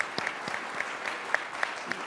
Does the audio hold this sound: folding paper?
no